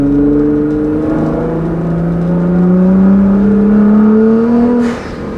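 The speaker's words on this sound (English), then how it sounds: "There is something special about a V6 making noise like this." A 2015 Nissan GT-R V6 with a Meisterschaft exhaust, a tune and GFB blow-off valves revs up in one long climbing pull. Near the end it lifts off with a sharp, hissing blow-off whoosh. The sound is loud and close, with no talking.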